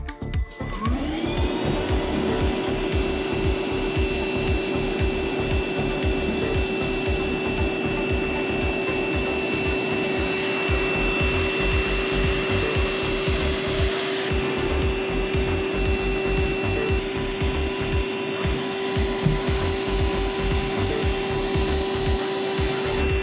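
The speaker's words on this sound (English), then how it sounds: "Plenty of suction in both speeds, but you can see, speed 2 really evacuated all that sawdust." A Flex 24V cordless vacuum fitted with a utility nozzle over its crevice tool sucks up sawdust, starting up and then holding a loud steady whine with rattling debris throughout, no speech.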